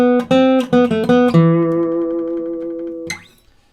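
An electric guitar plays a lick: several quick plucked notes, then a held ringing note that decays before a final short strum, close and clear with no talking.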